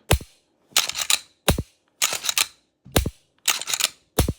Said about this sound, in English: look how easy it is to release the firing pin